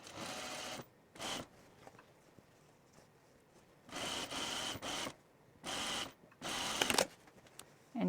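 Sewing machine stitching a skirt's zipper seam at full seam allowance, running in several short bursts of steady mechanical whirring separated by quiet pauses, close and fairly loud.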